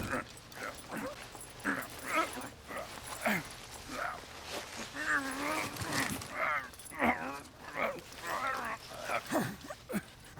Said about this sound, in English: That street dog should have been put down long ago.